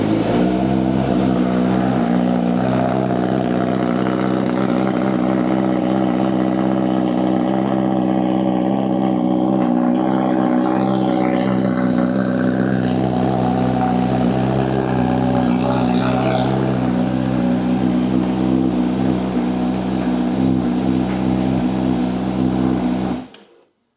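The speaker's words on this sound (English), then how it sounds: "we'll turn the bike on and see if it throws up any errors. So start the bike." A Honda Fireblade motorcycle engine runs steadily at idle for the whole stretch, a loud, even, close drone that cuts off abruptly at the end, with no voices.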